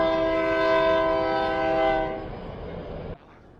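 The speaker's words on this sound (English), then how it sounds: "The train's coming." A train horn blares loud and steady for a couple of seconds, then fades as the train rumbles past nearby with no talking.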